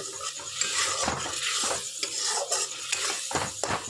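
A rohu fish head fries in a pan in a village kitchen, a steady sizzle overlaid by repeated scraping and clinks of a metal spatula stirring against the pan, close and fairly loud with no voices.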